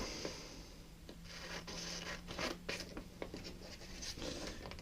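Scissors cutting out paper letters for a stencil make faint, intermittent snips and soft rasping scrapes over a low, steady background hum.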